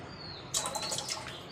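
Water is poured into a bowl in a kitchen, a short splashing, trickling burst that starts suddenly and continues briefly at close range, with faint bird chirps in the background.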